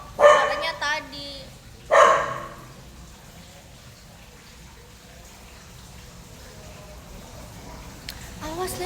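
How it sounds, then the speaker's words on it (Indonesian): A pet dog barks indoors, a couple of sharp loud barks near the start followed by quieter room noise and a faint later bark, with someone talking during the clip. "Makasih ya Fugo, tapi telat gonggongnya Fugo."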